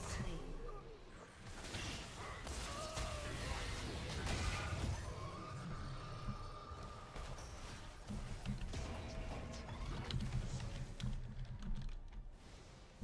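Computer keyboard typing clatters steadily throughout, dense and close, mixed with background game sounds and some voice activity.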